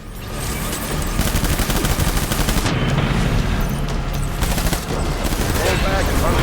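Sustained gunfire in the video game Death Stranding, with dense automatic bursts and loud booming shots rattling continuously throughout, close and heavy, with a brief dip before the firing resumes.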